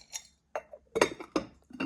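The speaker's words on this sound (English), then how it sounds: "I'm sorry that this is so noisy. This is all ceramic, so it's gonna be loud." Ceramic dice clink together in a few short bursts with brief pauses between, close and fairly light.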